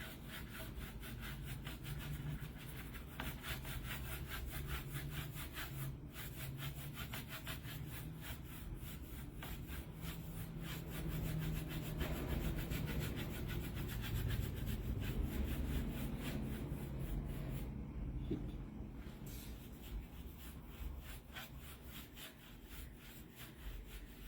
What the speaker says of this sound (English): It all just depends on how much you buff it.